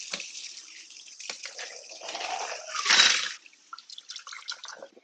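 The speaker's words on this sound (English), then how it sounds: "I'm going to wash my hands. You're going to hear the water for a second." Tap water runs into a sink while hands are washed, a splashing, dripping stream that swells to a louder gush midway and then trails off into scattered drips.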